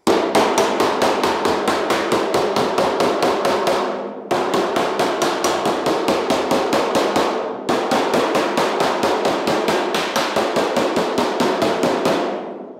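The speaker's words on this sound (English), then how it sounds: "That was me hitting the dolly with the hammer head on." A steel hammer strikes a dolly head-on while shaping a hand-formed metal roof skin for a 1940 Ford-inspired build, sounding as loud, rapid, evenly spaced ringing metallic blows in three long bursts with brief pauses between.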